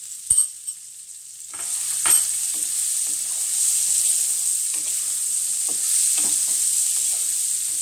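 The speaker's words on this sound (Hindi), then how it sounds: "इनको थोड़ा सा भून लूंगी। मैं इसमें ये करौंदा डाल दिया।" Karonda berries with green chillies roast in a hot pan, a steady bright sizzle with occasional stirring clicks and scrapes, close by with no talking.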